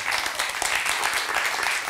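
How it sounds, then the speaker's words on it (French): A comedy club audience applauds in a steady, dense burst of clapping that holds evenly for the whole short stretch, with no voices standing out. "oui, ça s'applaudit."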